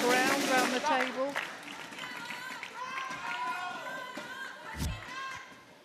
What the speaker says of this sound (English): You can hear the crowd absolutely fascinated by this.